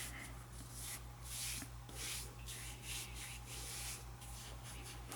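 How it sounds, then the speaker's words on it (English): Kinesiology tape is rubbed onto an ankle to help it stick, producing a steady series of soft, close scratchy strokes in an even back-and-forth rhythm, with no talking. "Rub to help the adhesion."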